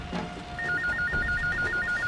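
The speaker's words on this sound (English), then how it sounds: "Will someone answer the goddamn phone?" An old-style telephone bell rings in a steady repeating pattern of short bursts, loud and close, over a low background murmur in a tense hostage standoff scene.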